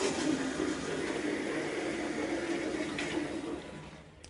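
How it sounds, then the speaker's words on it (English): A bathroom toilet flushes in a single sustained rush of water, loud and close, that stays steady for several seconds before tapering off at the end. "Flushing the toilet."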